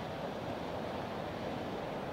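Pacific Ocean waves at China Beach make a continuous broadband surf roar, steady and fairly loud, mixed with wind noise and no voices.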